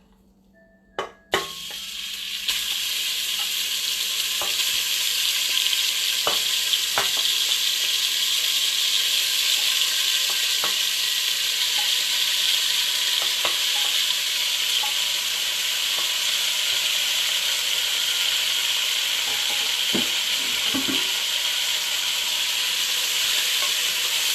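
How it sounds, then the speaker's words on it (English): Cut-up meat for a dish of meat with zucchini and corn frying in a pan, a loud steady sizzle starting after a clank, with scattered sharp pops throughout and no talking. "you're going to be hearing a lot of popping here. Here's the meat that I cut up."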